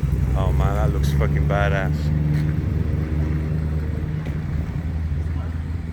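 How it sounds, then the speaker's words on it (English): Small Fiat car fitted with a Hayabusa motorcycle engine pulls away at a classic car meet, a steady low engine rumble close by, with people talking over it early on. "It's a little Hayabusa Fiat going."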